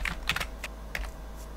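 Brief burst of typing on a computer keyboard, several quick close key clicks in an uneven rhythm before trailing off, with no talking.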